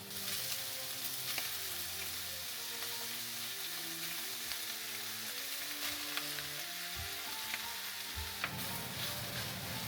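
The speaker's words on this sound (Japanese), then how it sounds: "まずは中華鍋でホイコーローを作ります。" Twice-cooked pork and cabbage crackles and sizzles steadily in a hot iron wok, with stirring scrapes and tossing accents over a continuous close frying hiss.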